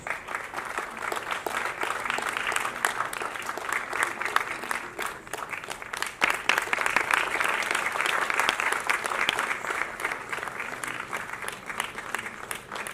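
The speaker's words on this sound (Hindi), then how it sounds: "पूनम जी के लिए तालियां आपकी थोड़ी बड़ी।" Sustained audience applause at an award ceremony honouring Poonam Dhillon and Sunil Pal, dense even clapping that holds throughout and rises slightly midway, with no talk over it.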